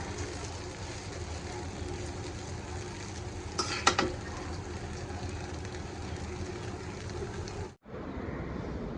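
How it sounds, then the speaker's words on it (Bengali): Noodles cooking in a pan give a steady, dense sizzling hiss that runs throughout, with a brief louder scrape near the middle and a short drop-out close to the end. "ডিম সিদ্ধ করে নেবো আর নুডলস রান্না করে নিলাম।"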